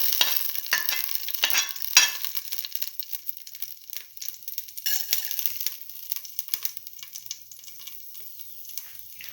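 Close, crisp crackling and popping of fennel seeds frying in hot oil in a pan for a mint potato stew, busy at first with sharp spatters, then thinning to lighter intermittent sizzles.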